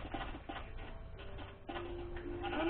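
Sheep in the video game Minecraft bleat over soft game ambience and footsteps, a few short thin cries in a quiet scene with no talking.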